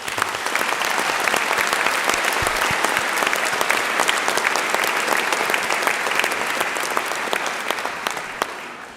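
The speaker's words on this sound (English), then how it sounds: "please join me in giving them a warm round of applause." Audience at a university graduation ceremony for Business, Law and Social Sciences applauds the musicians, a dense, steady wash of many hands clapping throughout at even loudness, with no talking.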